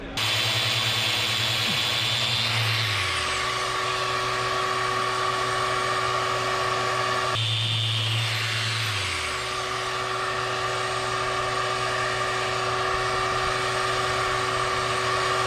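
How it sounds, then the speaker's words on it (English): A power sander fairs the wooden planks of a boat hull under restoration, running as a loud, continuous whine whose pitch drops when it spins down and then picks up again. "I'm just going to fair it up a little bit with the sander"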